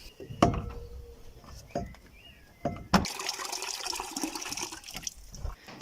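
Rainwater runs from a gutter through a bucket of sand and a filter into a tank, with a few sharp knocks at first, then a steady splashing, trickling flow heard close.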